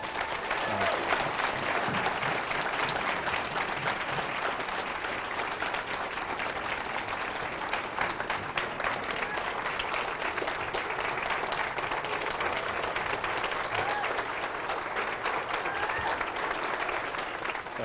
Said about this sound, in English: let's give our county executive a round of applause